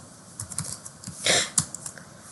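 A short burst of light, irregular computer keyboard typing, close and clear, with a few quick keystrokes and one louder cluster of taps.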